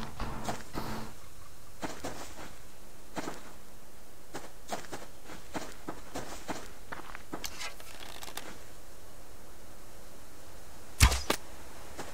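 Arrows fly at a chicken in the survival game Subsistence, a series of quick sharp whooshes and soft thuds spread across the span, with a louder crack near the end.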